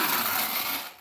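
Toy truck rolling fast across a hard surface, giving a steady, close, broadband plastic rattle that fades out at the end, with no talking.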